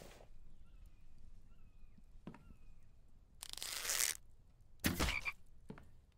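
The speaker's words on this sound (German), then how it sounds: "Aber ich wusste auch nicht, dass Frösche im Winter hier rumhampeln." Frogs croak in winter in the survival game The Infected, a faint low croaking under ambient noise, broken by several loud short bursts of noise.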